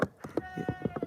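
A wavering, nasal bleat from an angry goat on an old mining property, brief and fairly close, over a muffled low background.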